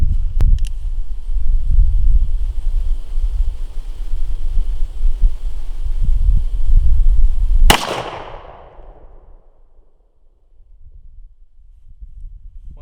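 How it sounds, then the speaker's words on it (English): A Colt 1847 Walker black powder revolver loaded with 60 grains of 3F Pyrodex and a .457 round ball fires one loud, sharp shot outdoors, with wind noise before the blast and a short fading tail afterward. "So we're going to see what the Colt Walker could do from 8 yards away, 60 grains of 3F Pyrodex, a 457 round ball."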